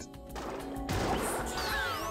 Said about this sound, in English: I keep crashing into stuff.